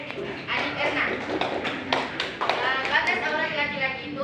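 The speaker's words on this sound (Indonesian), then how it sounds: "Beri tepuk tangan untuk teman kita" Clapping from a classroom of students applauding a classmate after her answer, a burst of many hands lasting a few seconds, with talk running over it.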